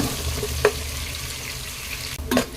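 Onions sauté in a pan toward golden brown for kalyana biryani, a low, soft frying hiss with a couple of clear clinks of a spoon against the pan, close by and without talk.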